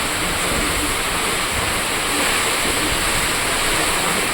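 Heavy rain driven by strong storm wind makes a dense, loud, unbroken roar that fills the whole stretch at an even level, with no voices.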